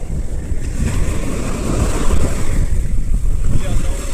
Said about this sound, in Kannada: ತುಂಬ ಜೋರು ಅಲೆ. ಇದು ನೋಡಿ ಹೆಂಗ್ ಬರುತ್ತೆ ನೋಡಿ.